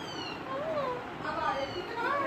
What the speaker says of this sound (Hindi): हाँ कितनी म्याऊं म्याऊं बोल रही है